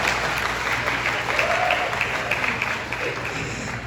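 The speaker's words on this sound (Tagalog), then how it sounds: "Isang malakas na palakpak nga." Wedding guests give a loud, steady round of applause, dense clapping from a crowd that stays even and sustained throughout.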